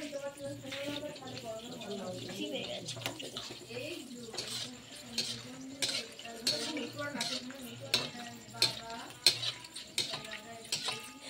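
Ready-made fuchka frying in refined oil in a wok on a gas stove, a faint sizzle broken by sharp clinks of utensils against the pan, with a voice talking over the first part.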